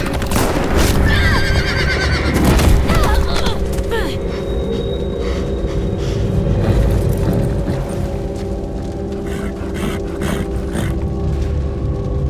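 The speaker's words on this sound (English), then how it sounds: "stop making me stare at that horse as it's dying" A horse whinnies loudly in the video game The Walking Dead: The Final Season, over a busy game soundscape with hoofbeats clopping and a person talking underneath.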